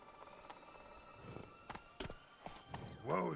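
Geralt's horse Roach in The Witcher video game walks with soft, uneven hoof clops, then lets out a brief snort or whinny at the end, fairly quiet.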